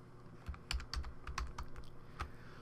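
Typing on a computer keyboard while setting text in Photoshop Elements, a quick run of sharp clacking keystrokes in uneven bursts, close and clear with no talking.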